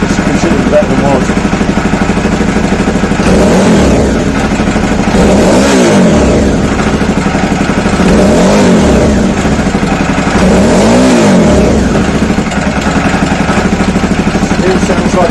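Loud engine revved several times in a steady rhythm, pitch climbing and falling, with a puffing, breathy exhaust blow at the bottom of the bowl running underneath.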